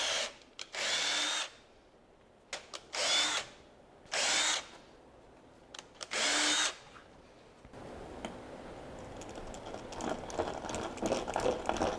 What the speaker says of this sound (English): we need to drill out all of those holes to the 25/64